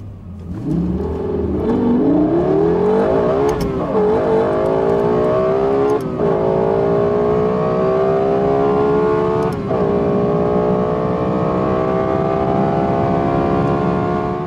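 A Toyota-built V10 engine developed with Yamaha revs up close and loud, its pitch climbing in long rising sweeps that are broken by several sharp gear changes over about fourteen seconds.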